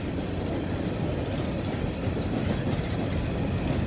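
Graffiti-covered rail cars roll past close by in a steady, loud rumble with rhythmic clickety-clack from the wheels, continuous with no voices.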